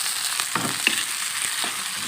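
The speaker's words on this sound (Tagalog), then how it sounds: "Ilagay na natin yung sibuyas." Onion sizzling and frying with garlic in a hot pan, a steady bright hiss with soft stirring scrapes, close and without talk.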